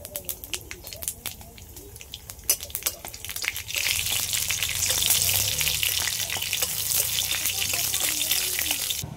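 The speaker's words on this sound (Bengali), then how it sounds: "ফোড়নে দিয়ে দিচ্ছি পাঁচফোড়ন, সর্ষে আর একটা শুকনো লঙ্কা কেটে নিয়েছি আর তেজপাতা, এগুলো সব একসাথে দিয়ে দিলাম।" Panch phoron, mustard seeds, a cut dried chilli and bay leaf hit hot oil with a steady crackling sizzle that swells louder after a few seconds and keeps up without talk.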